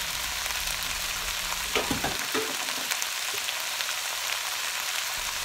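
Vegetables fry in a hot pan with a dense, even hiss like light rain that holds steady throughout. A few brief clinks sound near the middle, and no one speaks.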